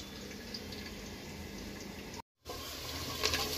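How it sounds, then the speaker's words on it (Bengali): Lentils and rice being washed in water at a kitchen sink, a steady running-water wash under the tap with a brief break partway through, close and fairly loud throughout. "এর ফাঁকে আমি ডাল আর চাল ধুয়ে নেব।"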